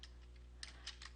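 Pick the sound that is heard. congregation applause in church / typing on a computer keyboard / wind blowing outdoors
typing on a computer keyboard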